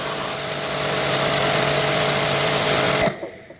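An Orion Superjet100S jet cleaner sprays water through a fitted nozzle with a loud, steady hiss over a motor hum for about three seconds, then cuts off abruptly.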